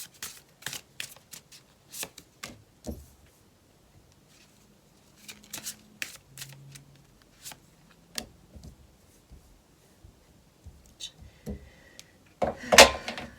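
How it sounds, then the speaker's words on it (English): Tarot cards are shuffled in quick bursts of soft riffling and tapping, close up and fairly quiet, with short pauses between. "I shuffled. I swear I shuffled."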